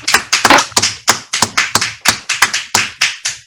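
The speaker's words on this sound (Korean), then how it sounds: "박수." A congregation at an online New Year revival service claps hands in a fast, fairly irregular run of loud, close taps. The sharp slaps come about every quarter second and are heard alone, with no talk.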